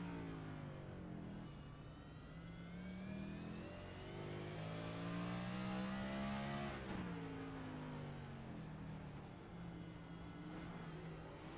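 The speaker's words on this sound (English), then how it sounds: "You can hear Long not on the throttle, just almost idling through the corner." A race car engine in iRacing on the Chicago Street Course, off the throttle and nearly idling through a corner, a steady droning hum with smoothly sliding engine tones, loud and continuous for several seconds.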